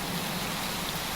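Steady Minecraft rain hisses softly and evenly, a faint, continuous wash with no voices.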